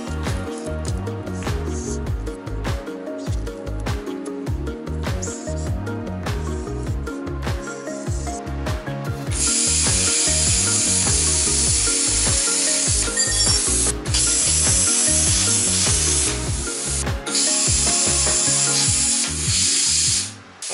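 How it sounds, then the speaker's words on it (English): Plasma cutter slicing a steel center console bracket for a 1998 Jeep XJ, a continuous loud hissing, crackling roar that intensifies midway and runs steadily alone until cutting off at the end. "I'm going to test out and use a plasma cutter."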